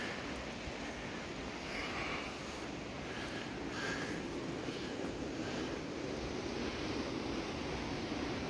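A small mountain creek, partly dammed upstream, flows with a steady, moderately loud wash and rush of water, continuous with some wind buffeting the microphone.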